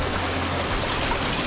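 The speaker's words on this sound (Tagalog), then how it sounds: "kung asa gagawas ang tubig" Spring water flowing steadily from its source at a cold spring resort in Malabog, Paquibato District, Davao City, a continuous close rushing wash with no voices.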